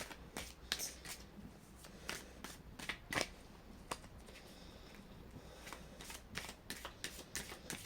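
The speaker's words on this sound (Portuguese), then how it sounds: "Vamos baralhar um pouco." A deck of cards being shuffled by hand, a run of sharp riffling bursts and soft taps spaced irregularly, close and clear with no talking.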